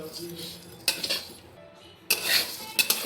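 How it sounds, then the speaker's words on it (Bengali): Rice and lentils dry-roasting in a pan over low heat, with a utensil stirring, scraping and clinking against the metal in a few close bursts separated by quiet gaps. "চাল ডালটাকেও লো হিটে ভাজতে হবে।"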